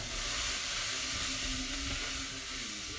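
Spices for dahl fry in a pan with a soft, continuous sizzle and hiss while being stirred, heard faintly and without any talking.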